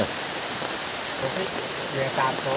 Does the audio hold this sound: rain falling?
yes